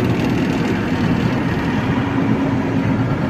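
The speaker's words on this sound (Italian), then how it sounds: "Sentite che motore." A heavy 690 N3 engine idles steadily at the Imola swap meet, a constant low rumble with an even throb, fairly close and unbroken throughout.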